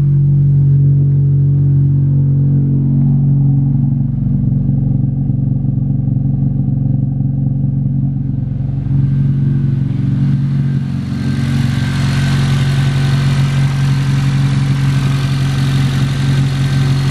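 A car engine that has sat unused for about a week idles after a hard start, a loud, steady low rumble close by that turns brighter and noisier partway through, with no talking.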